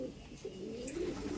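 Pigeons in an open loft give soft, low cooing calls, one rolling coo after another at close range over quiet background hiss.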